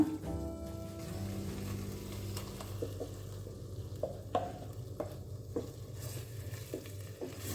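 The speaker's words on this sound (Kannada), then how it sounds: "ಮಸಾಲೆ ಕೂಡ ಚೆನ್ನಾಗಿ ಫ್ರೈ ಮಾಡ್ಕೊಳ್ಳೋಣ" Ground masala fries in a pan after tomato and onion for a cauliflower gravy, quiet sizzling beneath repeated light scrapes and taps of a spatula, with a brief low hum at the start.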